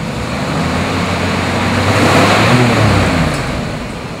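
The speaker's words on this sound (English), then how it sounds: "Typically we rev the cars so that you can hear how loud they are." A 1977 Cadillac Seville's engine revs up and holds, a steady loud near roar that swells toward the middle and eases off, with no talking.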